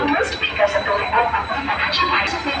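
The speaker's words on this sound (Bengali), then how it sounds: "ট্রেনের শব্দ।" A train moves through Old Delhi railway station, a low steady rumble running beneath busy platform crowd noise and voices throughout.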